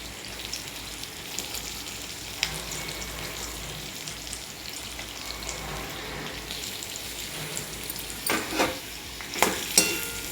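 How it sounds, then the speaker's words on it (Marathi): Sliced onions sizzling and frying in a pan, a continuous close hiss with occasional stirring scrapes and clinks, no voice. "कांदा चांगला लाल होईपर्यंत आपल्याला परतून घ्यायचा आहे।"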